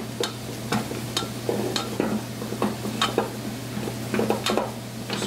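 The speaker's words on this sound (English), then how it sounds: "Dump it right in, and then stir it, and it should leave the side of the bowl." Flour stirred into melted butter in a pan, cooking toward a paste, a close sizzle under a steady run of rapid spoon scrapes against the pan over a low constant hum, no speech.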